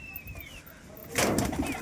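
Roller pigeons in a loft give a few soft, low coos, then a sudden brief flurry of rustling and fluttering near the end, fairly quiet overall.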